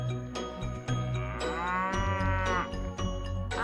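A cow on a farm gives a long, loud, drawn-out moo that swells and falls, close and clear, with no talking over it.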